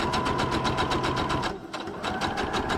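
A sewing machine runs a straight stitch through paper in fast, even mechanical pulses, stops briefly, then starts again, close and clear with no talking.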